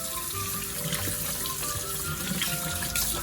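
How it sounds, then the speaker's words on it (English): A faucet runs very hot water steadily into a sink, with continuous splashing water close by and no one speaking. "I have some super hot water going here."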